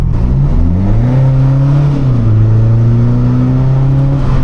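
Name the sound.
BMW 535d 3-litre diesel engine revving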